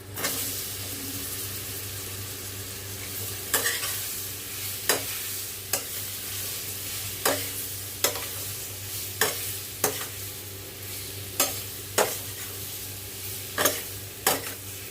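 Amla, Indian gooseberries, fry in a pan for pickle with a constant sizzle, while a spoon scrapes and stirs in regular strokes about once a second.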